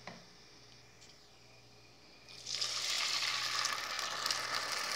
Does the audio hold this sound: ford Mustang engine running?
no